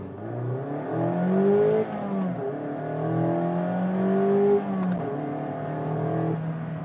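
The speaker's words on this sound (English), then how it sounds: "so it is a really manly acceleration for such a tiny car" 2016 Mazda MX-5 ND roadster accelerating hard from a stop, engine note climbing through the gears in rising sweeps with brief dips at each shift, heard loud and steady from inside the car.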